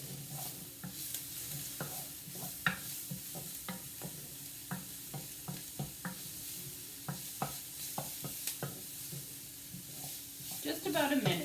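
Ingredients for paella stir and sizzle in a pan, with a soft continuous frying hiss broken by repeated scraping strokes of a utensil, heard fairly close and alone.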